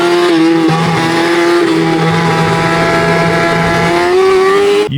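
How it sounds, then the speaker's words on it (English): A Yamaha R6 motorcycle with a blown coolant hose runs steadily with a strong harmonic engine whine and a rough undertone. The pitch dips briefly early on, then climbs near the end before cutting off. It is loud and close, with no talking. "my bike started making a very weird noise"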